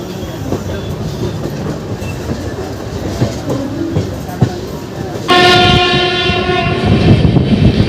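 The 13161 Kolkata-Balurghat Tebhaga Express runs near Patipukur and Dum Dum with a steady rumble and clickety-clack. A loud, sustained horn blast cuts in partway through and holds to the end, heard close up.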